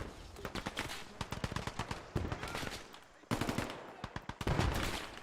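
Gunfire crackles in the Vietnam War strategy game Gates of Hell: Vietnam, with dense bursts of rifle and machine-gun shots, sharp repeated cracks at varying distances that rise and fall across the clip.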